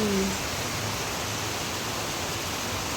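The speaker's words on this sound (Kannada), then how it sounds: "ಮಳೆ ಬಂತು." Steady, dense hiss of rain falling heavily and evenly over farmland on a windy day, loud and close, with no voices over it.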